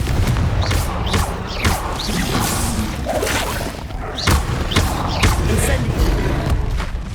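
Repeated Confringo spell blasts in Hogwarts Legacy land as sharp, booming explosive thuds, several in quick succession, with crackling impact debris between them and game voices in the mix.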